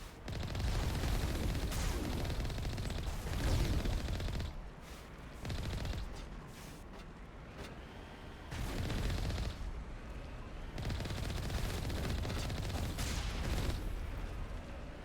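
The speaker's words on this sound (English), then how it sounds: "Well, that's what's shooting at me." Gunfire from the video game Mass Effect 1, arriving in dense, sustained bursts of shooting with brief lulls between volleys, loud and continuous with no talking over it.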